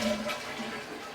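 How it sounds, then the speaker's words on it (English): A household toilet flushes, a short rush of water that swells briefly and then eases into a steady fill, heard alone without talk. "Then flush your toilets."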